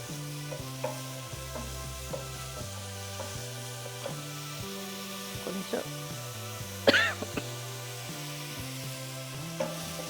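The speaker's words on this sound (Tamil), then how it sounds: "இந்த மாதிரி ஃப்ரை பண்ணுறதுனால ஒரு அரை வேக்காடு வெந்துடும் இது" Mushrooms fry in oil in a pan for butter garlic mushroom gravy, giving a faint, continuous sizzle with occasional stirring clatter, heard alongside a low background tone and brief noises.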